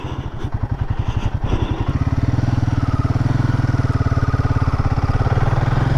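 A dirt motorcycle's engine labors in first gear up a steep dirt track, a close, loud, rapid pulsing thrum that steadies and holds constant after the first couple of seconds.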